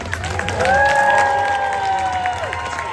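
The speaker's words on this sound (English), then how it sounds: "I will never turn down applause." An audience at a holiday storytime show with Deadpool cheers and applauses, a loud sustained wash of clapping with whoops and shouts over it.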